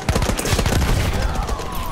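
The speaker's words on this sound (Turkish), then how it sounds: "Orada bir makinalı tüfek var." Rapid machine gun fire in the Battlefield 1 Suez map, a dense loud burst of overlapping shots with battle noise, under a faint voice.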